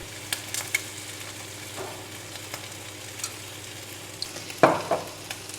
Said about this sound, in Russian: Нагрели хорошо сковородку, наливаем сюда подсолнечное масло.